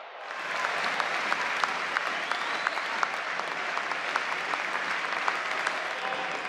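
A large football crowd claps steadily in a stadium at a Charlton versus Exeter City match, a dense wash of applause with a few sharper claps and cheers standing out, heard from within the stands.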